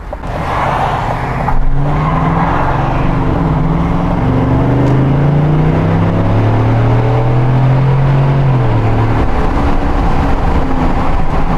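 A Chevrolet Silverado pickup with a Corsa Sport exhaust revs and pulls away, its deep exhaust rising and falling in pitch through several gear changes, loud and steady for over ten seconds without talk.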